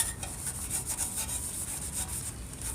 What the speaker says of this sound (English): So we're just going to scrub this a little more.